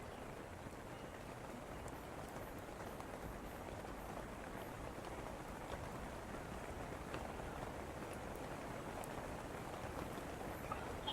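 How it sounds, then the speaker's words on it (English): Steady rain in a video game, a dense even hiss of drops on surfaces filling the whole stretch at low, constant loudness with no talk. "I can hear that rain. Sounds more like real rain than ever."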